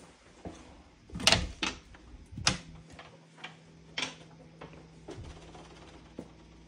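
Door opening in a home's bedroom leading to the living room and kitchen, with several soft knocks and clicks of the door and latch, a bump near the start and occasional lighter taps, fairly close in a quiet room.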